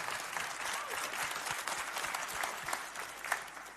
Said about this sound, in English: Round of applause for Oleg, ladies and gents.